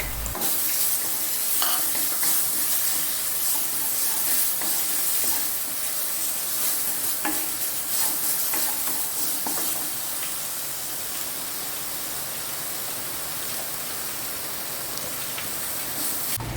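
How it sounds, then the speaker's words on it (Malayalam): Ground tomato and chili paste sautéing in a hot pan for egg curry, a steady dense sizzle and hiss running the whole time with occasional soft scrapes of stirring, close and even. "ഞാനൊരു തക്കാളിയും ഒരു മൂന്നാല് മുളകും കൂടി അരച്ച് വെച്ചിട്ടുണ്ടായിരുന്നു അത് ഇതിലേക്ക് ഇട്ടൊന്ന് നന്നായിട്ട് നമുക്ക് വഴറ്റാം"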